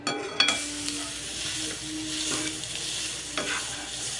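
Ivy gourd (kovakkai) frying on low flame in a pan, a steady close sizzle with occasional scraping stirs and clinks of the spatula, no voices.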